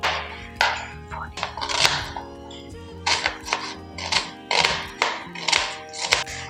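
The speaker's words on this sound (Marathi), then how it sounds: "आता मी इथे कांदा पण चिरून घेणार आहे बारीक" A knife finely chops onion on a board in a steady series of sharp close taps, about ten strokes in quick rhythm, with a low hum underneath and no speech.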